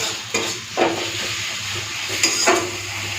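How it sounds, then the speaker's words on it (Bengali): Ginger, garlic and dried chilli paste fries with browned onion in a pan for mutton curry, with a steady sizzle and a few scraping stirs of a spoon, close and loud, no talk. "এখন এই মশলাটাকে ভালো করে ভেজে নেব যাতে আদা রসুনের কাঁচা গন্ধটা চলে যায়"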